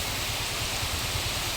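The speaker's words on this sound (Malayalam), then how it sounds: "മഴ തുടങ്ങി ഗൈസ്. നല്ല മഴയാണ്." Heavy rain falling outdoors near a house, a dense, even hiss that fills the whole moment without a break.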